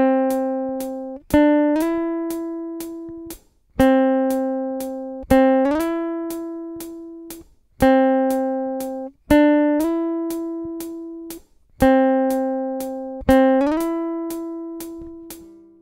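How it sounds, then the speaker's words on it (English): Fingerstyle guitar slur played left-handed: a single plucked note slides up to the next pitch without re-picking, repeated several times at a slow, steady pace, clear and close, no talking. "you pluck the string once and slide to the next note without repicking the string"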